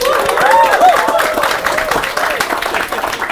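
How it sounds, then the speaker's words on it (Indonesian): A live audience breaks into applause at a talk-show style interview, a steady patter of clapping lasting a few seconds at moderate distance, mixed with some voices from the crowd. "Boleh tepuk tangan dulu."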